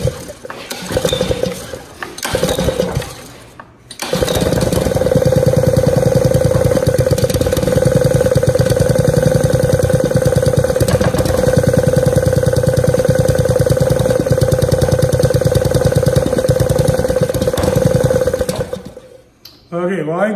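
Small gasoline motor on a rebuilt power cart with a new pull cord, choke on: a couple of brief pull-start bursts, then the engine catches and runs loud and steady for about fifteen seconds before cutting out.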